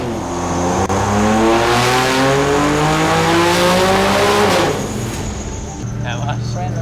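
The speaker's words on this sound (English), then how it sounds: "After all the work, the Barra 80 is ready to hit the dyno." Turbocharged Barra-engined Toyota 80 Series 4WD on a hub dyno, revving hard through several rising gear pulls with a loud, close engine roar, then dropping back to a lower idle near the end; voices are faintly audible.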